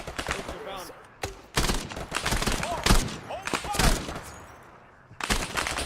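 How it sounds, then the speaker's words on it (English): Cover fire from rifles in the military video game Arma 3, a milsim squad attack near sandbags: several loud bursts and single gunshots ring out in irregular clusters over roughly six seconds, with radio-style chatter and talk mixed among the shots. "Ryder, cover fire on the right side of those sandbags"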